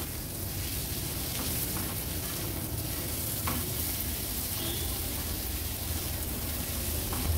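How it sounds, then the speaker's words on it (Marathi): Mushrooms being stirred into a masala in a pan for a restaurant-style mushroom dish, a steady scraping and soft sizzle running continuously and close, with no voices. "व्यवस्थित ह्या मसाल्यामध्ये आपल्याला याला मिक्स करून घ्यायचे, म्हणजे हा मसाला आहे ना मशरूमला व्यवस्थित कोट व्हायला हवा"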